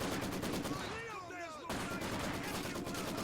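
Rapid machine-gun fire hammers at an observation post in Company of Heroes 2. Loud, continuous bursts break off briefly midway under a short voice-like chatter and then resume at full density.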